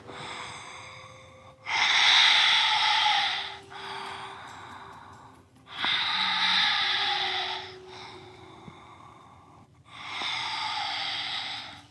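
Deep yoga breaths during a gentle flow class, heard as four long, breathy exhalations, each a couple of seconds long, with quiet gaps between them and no talking.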